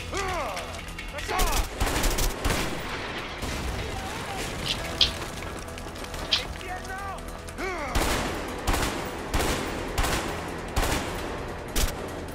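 Gunfire in the video game A Way Out: repeated bursts and single shots crackle on and off throughout, mixed with voices talking over the action.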